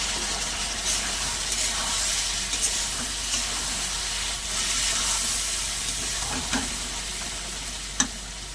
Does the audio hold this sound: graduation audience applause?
no